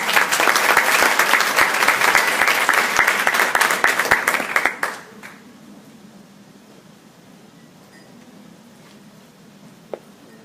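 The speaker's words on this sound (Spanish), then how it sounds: "Vamos a darle un aplauso." Loud, dense audience applause at a medical talk on diabetes and polypharmacy in older adults, filling the first five seconds before cutting off abruptly into quiet room tone with a single faint click near the end.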